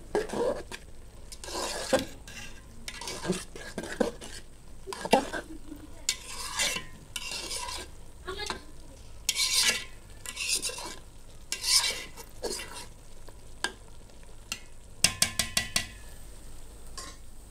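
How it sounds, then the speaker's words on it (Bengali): Chicken meat for a village-style chicken biryani is stirred in a pot, with repeated scraping strokes of a spoon against metal and a soft sizzle underneath, coming in irregular bursts up close. "গোশটা ভালোভাবে মিশিয়ে দেই।"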